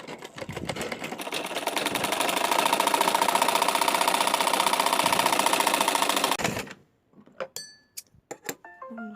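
Sewing machine stitching baby pants and their piping fabric, a steady rapid mechanical whir running loud and close for about six seconds, then stopping abruptly before a few short clicks and taps.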